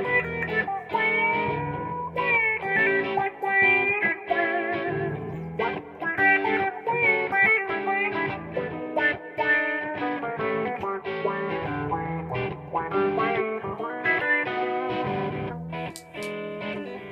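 Distorted electric guitar played through a Lovepedal Rubber Chicken pedal, with strummed chords and picked phrases ringing out in a steady, fairly loud run and no talking.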